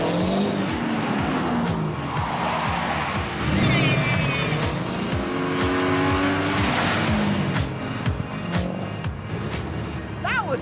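A race car at full speed on a track during a hot lap, its engine roaring loud and close throughout, rising and falling as it shifts gears, with tires squealing through the corners and a voice heard over it.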